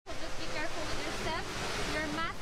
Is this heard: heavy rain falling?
no